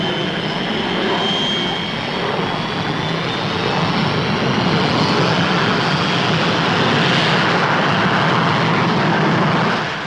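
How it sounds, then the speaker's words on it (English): Delta II supersonic research aircraft with exceptionally thin wings, flying a demonstration at Farnborough: a loud, steady jet roar with a rising whine, sustained and fairly close. "The Delta II is yet another research aircraft probing into the future."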